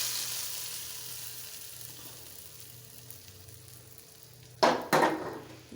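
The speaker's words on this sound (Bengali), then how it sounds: "এখন এটাকে বাগাদা নেব, রসুন পেঁয়াজ আর তেল দিয়ে।" A garlic, onion and oil tempering sizzles over lentil dal with jute greens: a quiet frying hiss, then two sharp loud crackling bursts near the end as the hot tadka hits, close by.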